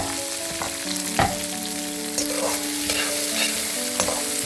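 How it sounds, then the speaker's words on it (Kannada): Onion and curry leaves sizzle steadily in hot oil for peas chitranna, with a spoon stirring and scraping the pan now and then, close and moderately loud. "ಇದಕ್ಕೆ ಈರುಳ್ಳಿ ಮತ್ತು ಕರ್ಬೇವಿನ ಸೊಪ್ಪು ಏನು ಇಟ್ಕೊಂಡಿದ್ವಿ ಅದನ್ನು ಕೂಡ ಆ್ಯಡ್ ಮಾಡ್ಕೊಳ್ಳೋಣ ಇದನ್ನು ಸ್ವಲ್ಪ ಮಾಗಿಸ್ಕೊಳ್ಳೋಣ"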